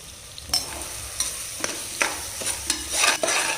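Green chilies sizzling in hot oil, with several sharp stirring scrapes of a spoon against the pan, close by.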